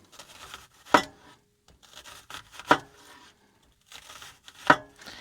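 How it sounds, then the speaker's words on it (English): Three distinct knife chops through an onion on a cutting board, evenly spaced, with soft scraping and rustling between them, close and clear. "I'm gonna start by chopping up an onion."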